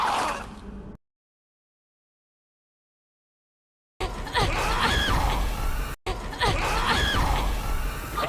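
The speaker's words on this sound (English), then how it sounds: "She screams before she closes the gate." A woman's scream in the Resident Evil Requiem video game, a loud, shrill cry that cuts off abruptly, followed by silence and then a dense burst of game sound and voices.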